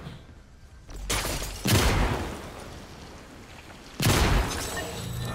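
Two heavy, booming gunshot blasts ring out a couple of seconds apart, each with a long rumbling decay, against a quiet hissing background.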